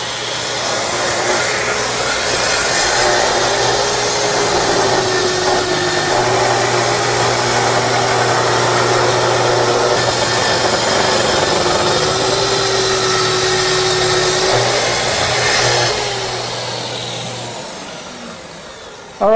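A Festool plunge saw fitted with a combination blade cuts steadily through a workpiece, its loud whining drone holding for about fifteen seconds before spinning down, with no talk.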